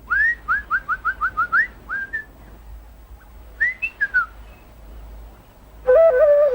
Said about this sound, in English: now uses his pipe to call up one of them